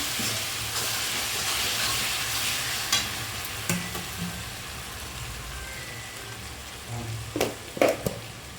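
Tomatoes fry with salt and chili powder in a pan for a village-style tomato egg curry, giving a steady close sizzle with occasional stirring scrapes and clinks near the end.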